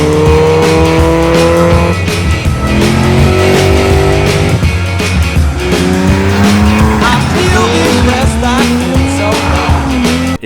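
Racing cars on a track roar loud and continuous, with sweeping engine pitch changes and tire squeal throughout.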